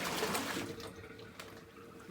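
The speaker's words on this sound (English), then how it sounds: "I'm going to dump the water, the boiling water," Boiling water poured from a pot into a kitchen sink, a steady rushing splash that is strongest at first and then eases, heard fairly quietly and close.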